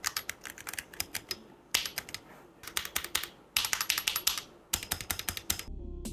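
Rapid keyboard typing in bursts on ceramic keycaps, each keystroke a crisp, bright clack with a slightly hard, glassy ring, close up with brief pauses between runs.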